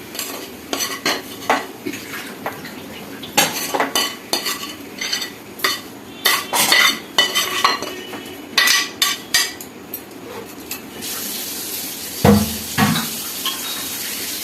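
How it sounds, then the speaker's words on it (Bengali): A spoon stirring filling into a flour and semolina batter in a bowl, with repeated scraping, tapping strokes in an irregular rhythm, close and clear, and a brief clatter near the end. "এটার সাথে ভালো করে এইভাবে মিক্সড করে নিচ্ছি পুরটার সাথে"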